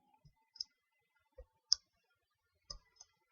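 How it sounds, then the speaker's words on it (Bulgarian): A computer mouse button is clicked several times during a Minecraft session. The sharp, quiet clicks come in irregular clusters with short silences between them, and no one talks. "Цъкам бутона, то не иска да ходи."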